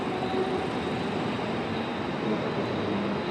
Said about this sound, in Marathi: सो आपली ट्रेन आलेली आहे